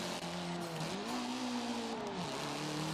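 Eagle Talon with upgraded turbos, exhaust and intake in Forza Motorsport 7, engine droning loudly and continuously, pitch rising and falling through gear changes over a steady roar.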